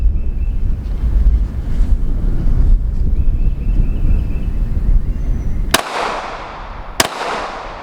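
Two sharp Sig Sauer P365 XMacro pistol shots crack out a little over a second apart, loud and close, after several seconds of wind and outdoor rumble.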